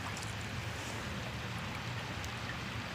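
River rapids are heard from a kayak. A steady broadband rush of moving water fills the clip evenly, continuous and fairly close, with no talk.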